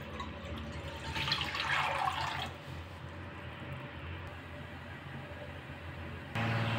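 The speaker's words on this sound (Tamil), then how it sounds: "தண்ணி சேர்த்துக்கிறேன்." Water is poured into a cooking pot for a cauliflower kulambu, a short splashing rush that swells for a couple of seconds and then settles into a quiet background hiss.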